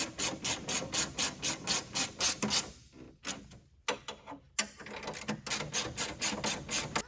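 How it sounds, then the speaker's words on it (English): A 10mm wrench and 11mm socket tighten the fasteners of an LED grille light kit on a 2019–2024 Ram 1500, giving a fast, rhythmic ratcheting clatter that stays close and steady, breaking off briefly midway before resuming. "And with a 10mm wrench and an 11mm socket, just tighten those fasteners down."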